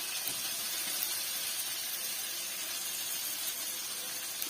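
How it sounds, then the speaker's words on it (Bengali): Meat hits a pan of well-fried spices and sizzles with a steady, close hiss that holds evenly throughout, with no talking. "এবার এর মধ্যে আমি মাংসটা দিয়ে দেব"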